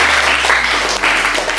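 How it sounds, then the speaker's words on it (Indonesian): Students clap in a junior high school classroom after a classmate answers, a brief burst of dense, fairly loud applause from a small group, heard alone without talk. "Oke, kita tepuk tangan."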